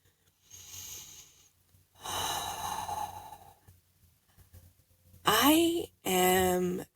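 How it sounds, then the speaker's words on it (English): A person takes slow, deep breaths close to the microphone, with an airy inhale and a longer exhale, then two louder, voiced, sighing breaths, separated by quiet pauses. "Let's take another deep breath."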